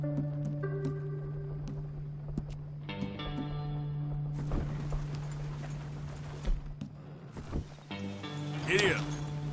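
Horse hooves clip-clop in a scattered rhythm of sharp knocks over a steady low hum and tonal music-like drones, with a brief voice near the end.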